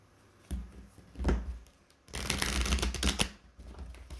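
A deck of cards is shuffled at close range: two short riffling bursts, then a longer, dense run of rapid flapping and shuffling, with no talking.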